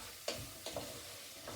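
Vegetables cooking down in a pan on medium heat, a soft continuous sizzle broken by three faint scraping stirs, close and quiet.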